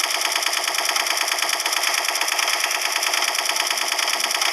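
A gatling gun in a video game fires in a dense, continuous rattling burst, loud and close, with rapid evenly spaced shots and no pauses.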